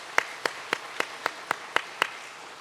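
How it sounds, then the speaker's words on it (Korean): Church congregation claps in thanks after a service event, eight evenly spaced sharp claps at a steady rhythm, fairly faint and with no talking. "감사의 박수 한번 하겠습니다."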